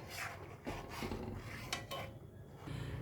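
Jaggery stirred into a pot for rice pudding, quiet scraping and clinking of a spoon against the pot in short irregular strokes, close and soft, with no talking.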